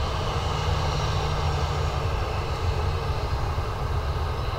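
An Aer Lingus airliner arriving from London Heathrow at Dublin Airport gives off a loud, steady engine roar with a deep low hum, unbroken throughout.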